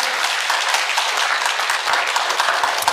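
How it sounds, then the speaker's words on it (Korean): Church congregation applauding during a Saturday early-morning worship service, a dense steady wash of many hands clapping for about three seconds with no talk over it. "하나님께 영광의 박수 올리겠습니다."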